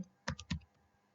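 A short burst of about four crisp keystrokes on a computer keyboard while entering an Excel formula, close and clear against near silence.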